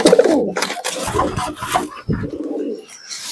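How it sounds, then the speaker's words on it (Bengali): High-quality pigeons coo near the microphone in a run of throaty bursts, along with some rustling and handling noise, with no talk. "খুবই সুন্দর কোয়ালিটি কবুতর আছে"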